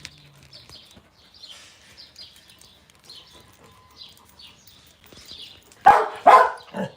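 Dogs at an animal sanctuary give two loud bark bursts near the end, after a quieter stretch of faint chirps and rustling.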